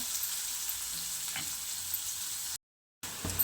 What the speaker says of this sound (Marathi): कांदा छान असा लालसर होईपर्यंत आपल्याला परतून घ्यायचं आहे